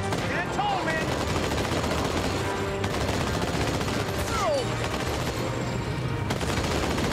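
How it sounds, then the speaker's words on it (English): Rapid gunfire rattles through a Halo 2 Anniversary Edition firefight, with repeated bursts of automatic shots and bright sci-fi weapon zips layered over busy battle noise and game voices. "Can you shoot at him, please?"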